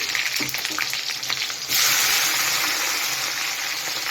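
Capsicum and onion hit hot oil in a pan: quieter kitchen sounds give way to a sudden loud, steady sizzle that keeps frying through the rest.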